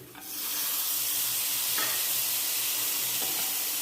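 Green bean seeds are stirred into a sizzling frying pan mixture, giving a steady loud hiss of frying with a few faint scrapes of the spoon, close and continuous, with no voices.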